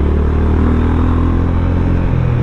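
Honda CB350 motorcycle engine running steadily while riding, a continuous loud low rumble with a faint clatter and no pauses.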